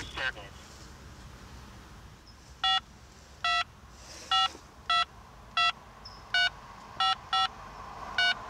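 A phone card call is placed on a telephone keypad, producing a series of about nine short, evenly spaced dialing tones, clear and close, with faint background voices and room noise between the beeps.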